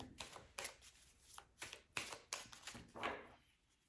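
A deck of cards is shuffled close by, making a series of quick, crisp riffling bursts with brief pauses between them.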